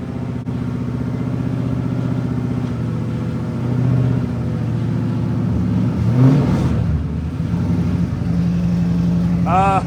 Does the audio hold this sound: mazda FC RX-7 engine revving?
yes